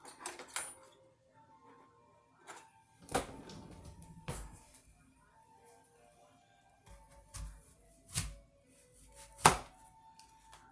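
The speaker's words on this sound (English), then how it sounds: "Okay, I'm going to quarter my apples" A knife quartering apples on a cutting board gives a few sharp, separate knocks and thuds spaced seconds apart, fairly quiet with soft handling noises between them.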